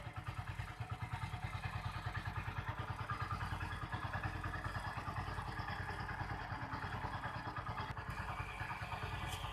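A vehicle engine idles steadily during an exhaust gas analysis test, a close, even low throb with rapid regular firing pulses and faint clatter, no voices.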